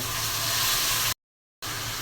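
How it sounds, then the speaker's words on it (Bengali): Water poured into a hot frying pan of oil with spiced fish hisses in a loud, steady sizzle, broken by a short silent gap before the sizzling resumes. "অল্প করে পানি দিয়ে দিচ্ছি।"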